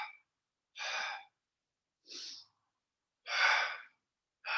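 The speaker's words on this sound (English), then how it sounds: "it's a double exhale. I am going to suggest mouth breathing now" Breathy mouth exhales during a yoga core class for the hamstrings, pushed out in short separated bursts with silence between them, close and fairly quiet, with no talking.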